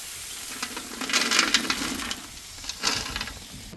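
Spiced corn kernels frying crisp in hot oil, a busy crackling sizzle with small clusters of pops that swell twice, close and fairly steady, with no talk.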